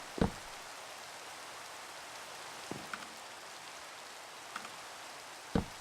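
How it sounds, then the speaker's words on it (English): Steady rain falls in the Minecraft video game, a soft even hiss with a few louder drop-like taps spaced through it, fairly quiet and with no voices. "these aren't going to dry because it's fucking raining"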